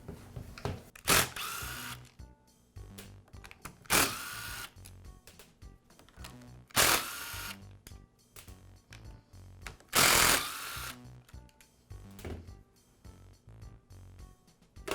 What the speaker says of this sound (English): I'll begin by removing the side cover from the handle.